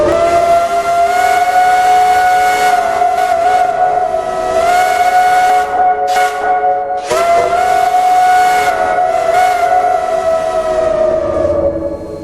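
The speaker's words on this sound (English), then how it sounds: "let's check the whistle" A quill-style steam whistle on a 0-4-0T geared tank locomotive in a railroad video game blows two long, loud sustained blasts with a brief break between them, harmonic and piercing, with no talking.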